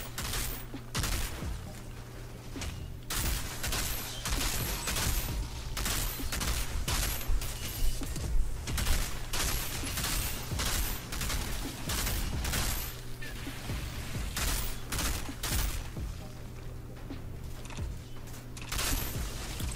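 Rapid gunfire from the Outriders shooter with a Technomancer, sustained bursts of automatic fire and repeated shots cracking densely over a low droning hum, loud and close, with brief mechanical clicks between volleys.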